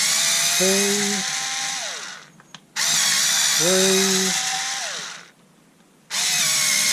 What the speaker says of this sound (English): we'll use Grandad Black & Decker to unscrew our new modern Black & Decker